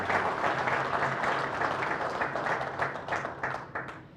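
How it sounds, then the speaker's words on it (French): An audience applauds at an official opening ceremony, a steady wash of many hands clapping at moderate distance that thins toward the end. "Je vous prie de les applaudir."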